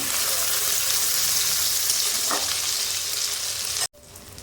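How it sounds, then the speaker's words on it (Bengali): A brinjal and egg omelette fries in a pan with a loud, steady, close sizzle that cuts off abruptly near the end, leaving a quieter hiss. "ডিম বেগুন ভাজাটা আবার উল্টে দিলাম।"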